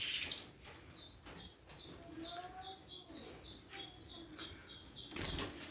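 A 21-day-old Peruvian saffron finch chick gives repeated high, thin chirps in quick downward-sweeping bursts, close by, with soft fluttering and rustling beneath and a brief louder flap-like burst near the end.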